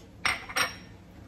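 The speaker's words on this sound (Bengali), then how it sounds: "এগুলিকে আমি এখন মিক্স করে ফেলবো, সব একসাথে করে মিক্সড করে একটা পেস্টের মতো বানিয়ে ফেলবো" A spoon clinks twice against a bowl while spice paste for lamb chops is mixed: two quick, fairly faint metallic knocks in an otherwise quiet kitchen.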